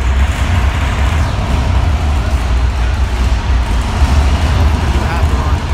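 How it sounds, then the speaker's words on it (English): Gas truck engine making a half-throttle test run at a test-and-tune drag event, a loud, steady low rumble filling the whole stretch with no break. "gas trucks. It's gonna get a little bit loud."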